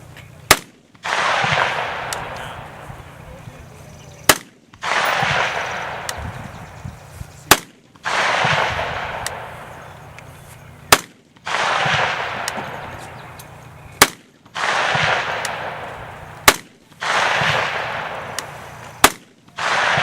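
A rifle fired from a seated position lets off about eight sharp, loud shots in a steady spaced rhythm, each crack followed by a long rolling outdoor echo, with no talk.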